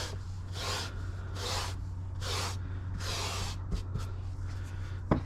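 A hand or brush rubs fabric car seat upholstery to fluff up the fibres, four rhythmic scrubbing strokes at close range followed by a few light taps.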